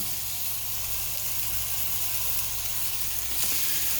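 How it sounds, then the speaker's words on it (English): Thin half-inch ribeye steaks sear in a lightly oiled pan with a loud, steady sizzle and hiss that carries on unbroken and close up. "We're going to let it sear for about 2 minutes."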